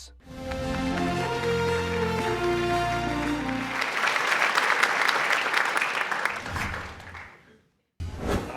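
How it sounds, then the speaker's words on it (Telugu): Sustained crowd applause at a televised satirical awards show, loud and dense over background music for about seven seconds, then fading out before a brief return. "Give him a big round of applause."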